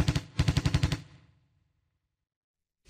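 Bushmaster cannon fire in a combat scene involving a Bradley fighting vehicle, a quick burst of heavy rhythmic shots followed by a sustained rapid string of loud thuds that end abruptly and fade into silence.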